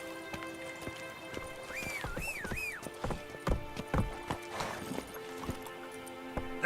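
Roach, Geralt's horse in The Witcher 3, clip-clops along in a steady run of hoofbeats, then lets out a rising whinny partway through, set against a continuous game backdrop of ambient tones.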